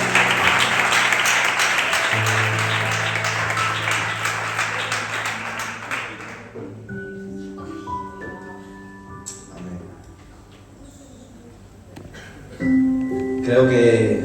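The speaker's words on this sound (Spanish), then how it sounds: "Fuerte el aplauso para el Señor" Strong congregational applause for the Lord at a special youth service in a church in Reus, thick and close for about six seconds before thinning away into sustained tones and voices.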